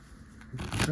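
A riffle shuffle of playing cards, done as a casino shuffle: a quick close burst of fluttering card clicks in the second half of the moment, following a faint voice.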